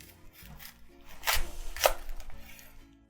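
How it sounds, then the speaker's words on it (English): A knife cutting a fennel bulb in half on a cutting board, heard as one crisp, close chopping crunch followed by a second sharp cut shortly after, in a quiet kitchen. "I'm just going to slice the bulb in half."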